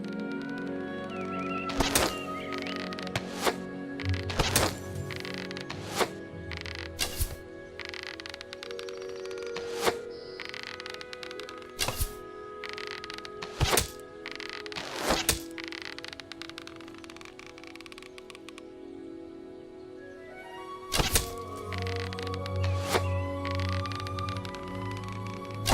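Arrows striking targets at an archery range in the video game Fable Anniversary: a series of sharp thuds at uneven intervals over soft ambient music and faint bird calls.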